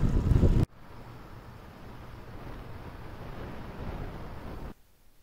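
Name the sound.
wind while cycling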